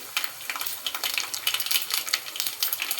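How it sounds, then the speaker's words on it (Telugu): Whole tempering spices crackle and pop in hot oil for a coconut chutney, with dense, irregular spitting bursts close by and no voices. "ఆయిల్ అయితే మంచిగా హీట్ ఎక్కిందండి పోపు దినుసులు వేసుకున్నాను అవి వేగుతున్నాయి"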